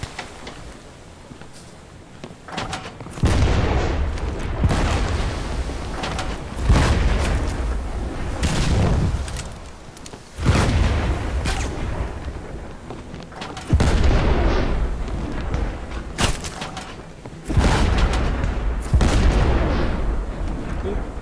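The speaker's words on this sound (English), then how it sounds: "Fire the right cannon!" Ship cannons firing in the pirate naval game Blazing Sails, a series of heavy booming blasts every few seconds, loud and close, each followed by a short rumbling tail, with faint voices between shots.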